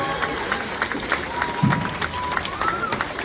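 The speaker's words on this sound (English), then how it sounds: "Let's go ahead and give the heifer exhibitors a big round of applause one time and show our appreciation to them" A livestock show crowd at a county fair applauds the heifer exhibitors, steady scattered clapping at moderate distance with a faint tone and background murmur running through.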